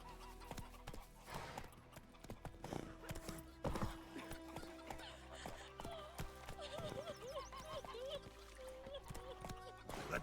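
Horse hooves clip-clop in The Witcher 3 as a mount sets off, the steady rhythmic beats mixed with game music and a whinny, while a voice talks over the gameplay.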